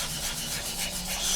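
A sponge sanding stick rubs lightly across a plastic 1/48 scale model of an X-47B, a soft, steady close-up scraping hiss that holds without break.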